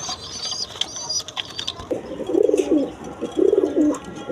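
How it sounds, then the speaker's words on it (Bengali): Domestic pigeons of show breeds such as silver and colored fancy pigeons cooing in a loft, two distinct rolling coos after a stretch of faint chirps and mechanical clicks, fairly close and clear with no talk. "কোয়ালিটি সম্পন্ন কবুতর"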